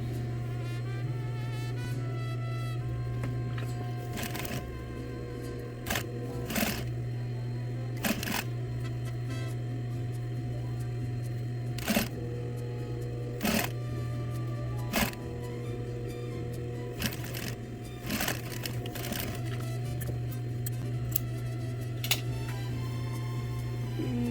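While a sleeve cuff edge is sewn up, a steady machine hum runs close and unbroken, overlaid with scattered sharp clicks and taps at irregular intervals.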